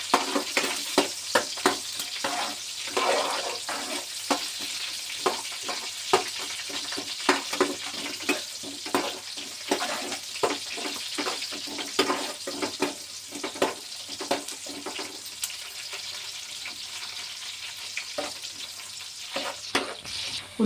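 Onions sizzling in a pan for a green egg khichdi, a constant bright crackle broken by repeated scraping clicks of a spoon stirring, moderately loud and close with no talk.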